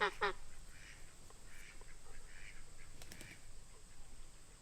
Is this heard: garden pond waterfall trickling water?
no